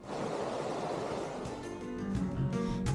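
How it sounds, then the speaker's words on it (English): A river flowing steadily along a hiking trail, a continuous broad rushing of water close by with no talk. "with this river flowing through"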